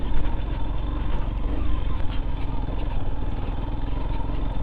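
Motorcycle engine running on a hill road near elephant country, a steady, close, continuous low rumble holding throughout with no voices over it.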